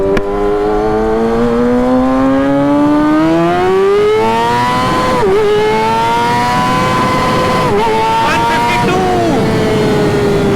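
A Kawasaki ZX-6R motorcycle engine pulls hard at full throttle on a road, its whine rising steadily through the gears with brief dips at each shift, loud and close throughout.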